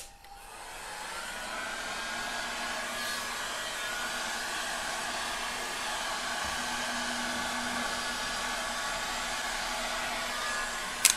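A hair dryer blows steadily across coloured resin for about eleven seconds, a loud, constant close-up whoosh that ends with a brief click.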